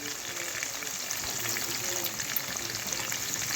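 Chopped onion frying in a pan with green chillies and tempering dal, giving a steady close sizzle with faint stirring throughout, no talking.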